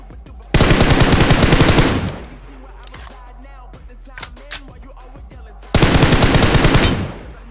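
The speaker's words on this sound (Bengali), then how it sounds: "তো আমি একটু ফায়ার করতেছিলাম আর কভারে ব্যাক করতেছিলাম" Rapid automatic gunfire in PUBG rattles out in two loud, sustained bursts of about a second and a half each, with quieter scattered in-game sounds in the gap between them.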